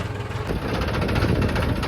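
A tractor engine runs steadily close by, a continuous low rumble that stays loud and even throughout with no talking.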